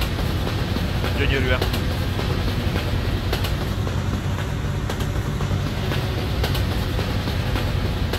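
A Hungarian express train in Euro Truck Simulator 2 rolls past as a steady, loud broadband rumble with faint rail clatter filling the whole stretch, while a voice briefly speaks over it.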